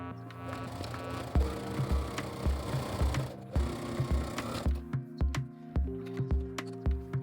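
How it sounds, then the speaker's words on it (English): A sewing machine top stitches a seam on a fabric bucket bag, running in short bursts with a rapid mechanical needle ticking and clear pauses between runs, close up and with no talking. "Top stitch on both sides with a ½ cm seam allowance."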